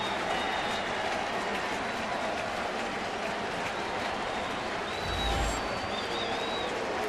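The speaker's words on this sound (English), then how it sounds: "A lot of White Sox fans in the stands, as you can see, standing for Brzezinski and cheering." White Sox fans at a baseball stadium cheer and applaud a home run by A.J. Brzezinski, a steady wash of distant crowd noise with a brief swell, and a few whistles cutting through.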